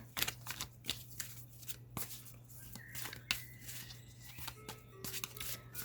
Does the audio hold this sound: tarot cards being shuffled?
yes